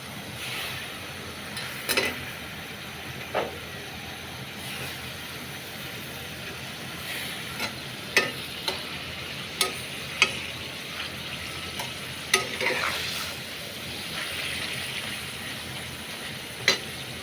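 Raw taki fish dropped into a hot pan of oil for a Bengali bhuna, giving a steady soft sizzle with scattered crackles and pops throughout and no voices.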